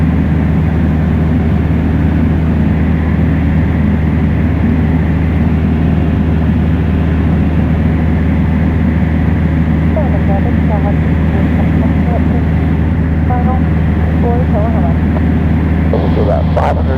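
Small airplane engine droning steadily during descent toward an airport, a loud continuous low hum filling the cabin, with faint voices briefly audible near the end.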